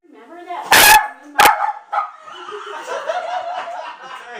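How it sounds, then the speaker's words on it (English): Two loud, sharp barks from dogs burst out close by, followed by a weaker yelp, then chuckling and talking voices take over. "I said the dogs are going to bark."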